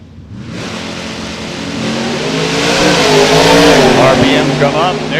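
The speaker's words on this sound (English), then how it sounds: "Pair of Novas getting ready to go." Pair of Chevrolet Nova drag cars at an NHRA Hot Rod Reunion event rev and launch, loud engines climbing in pitch over several seconds, with a public-address announcer talking over the noise.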